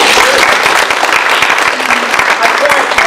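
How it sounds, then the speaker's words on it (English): A comedy-show audience breaks into loud, sustained applause, a dense wash of close clapping from a full room that holds steady throughout, with some crowd noise mixed in. "If you think my mother was right, give me a round of applause."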